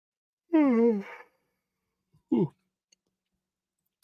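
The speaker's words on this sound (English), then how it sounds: "I had a yawn come out there" A single close, drawn-out yawn with a falling, wavering voice, then a short breathy sound and a faint click.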